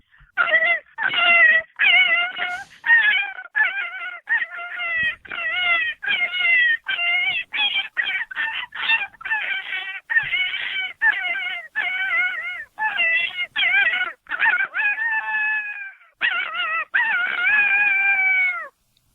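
Hand-operated predator call imitating a rabbit in distress, a long series of loud, wavering, high-pitched squealing cries in rapid bursts, close and unaccompanied, ending in a drawn-out howl-like wail.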